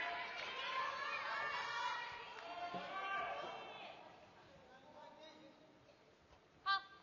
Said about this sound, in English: Crowd showing up a bit for Kim Na-young, reminding her where she's playing here in Incheon.